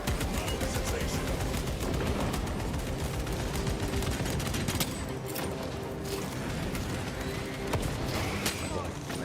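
Heavy sustained gunfire and battle din in the video game Space Marine 2 during a wall breach, a dense continuous barrage with sharp shot spikes, with voices speaking over the fighting.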